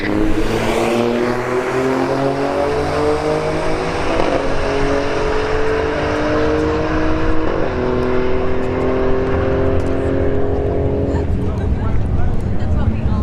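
An Alfa Romeo Stelvio Quadrifoglio and an EcoBoost S550 Mustang launch in a drag race, loud engines climbing through several upshifts before fading down the strip.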